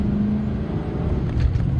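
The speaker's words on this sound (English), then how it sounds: "Truck takes off" A 2007 Ford F-150 XLT Crew Cab pickup pulls away under throttle, a close low engine rumble with a rising hum that builds briefly over under two seconds.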